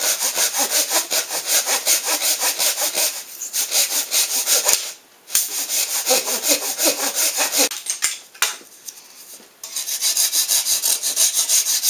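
A hand saw cuts through wood for a forge modification in rapid, even back-and-forth strokes, loud and close, pausing briefly twice before resuming its rasping rhythm.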